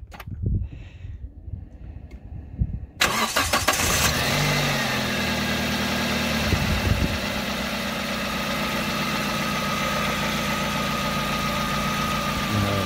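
A car engine cranks and catches after a brief quiet spell with some voices, then settles into a steady, loud idle that continues to the end, on a first start after battery servicing.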